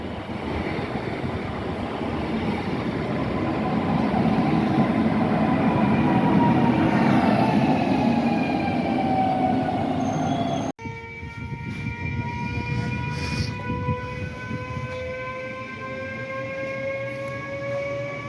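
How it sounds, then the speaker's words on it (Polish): A Polish passenger train runs from Kraków toward Tarnów, a heavy continuous rumble and roar with metallic wheel squeal, loud and near at first, then after a sudden cut the rolling and long tonal screeches continue a bit more distantly. "a tu jedzie N79 za 4 Z Krakowa do Tarnowa"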